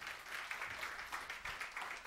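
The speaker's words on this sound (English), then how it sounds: "Get the choir another round of applause because they do a good job" An audience claps for a choir in a short burst of fluttering, ragged clapping that stays moderately loud for about two seconds.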